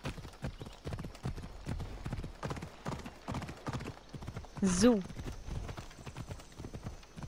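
A horse's hooves clip-clop steadily in the game Assassin's Creed Odyssey, a quick regular rhythm close by, with a brief whinny midway and someone speaking casually over the top.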